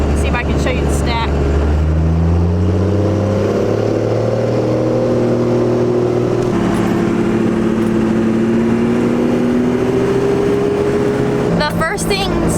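A first-generation pickup truck engine revs and accelerates up through rising gears, loud and close, with a brief shift dip midway and a clunk near the end.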